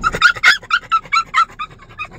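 French Bulldogs whimpering and yipping excitedly in a rapid run of short high cries and small barks, close and loud, with no talk over them.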